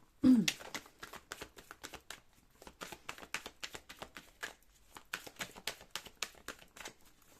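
Tarot cards being shuffled for a reading, a steady run of quick papery riffles and slaps that carries on through the whole stretch at close range, with no voice over it.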